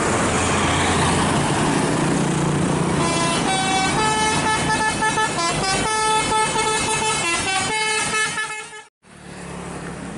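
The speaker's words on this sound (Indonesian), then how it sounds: "Bus Bintang Utara teman-teman, super eksekutif seat 22." Bintang Utara super-executive 22-seat intercity bus roaring past on a Sumatra highway near Pekanbaru, its loud engine rumble overlaid by a long run of repeated musical multi-tone horn blasts before a sudden brief cut-off.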